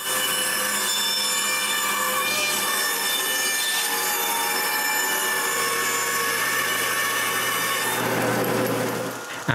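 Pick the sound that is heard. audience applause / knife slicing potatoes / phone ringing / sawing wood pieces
sawing wood pieces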